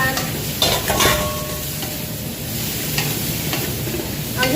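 Shrimp frying in a hot pan, a loud, close, continuous sizzle with a few quick stirring scrapes and light utensil knocks.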